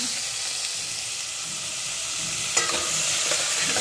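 Soaked masoor lentils hit hot oil in a pan and sizzle with a steady, close frying hiss, a brief stirring clatter partway through.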